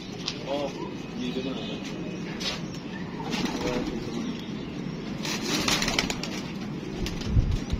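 Pigeons coo in soft, repeated throaty calls close by. A few wing flutters and people talking in the background mix with the cooing.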